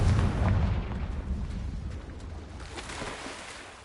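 A Confringo blasting spell explodes in Hogwarts Legacy as a single loud, booming burst that rolls off and fades over a few seconds, heard alone without talk.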